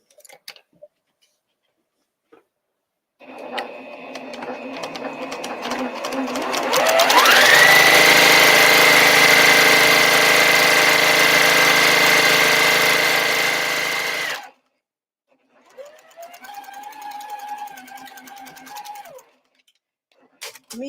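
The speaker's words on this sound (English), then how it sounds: "Me sewing with this white thread on this black fabric is just blasphemous." A domestic sewing machine stitches white thread into black fabric, spinning up to a steady, loud whir for several seconds and then stopping. Voices talk before and after the run, with quiet gaps around it.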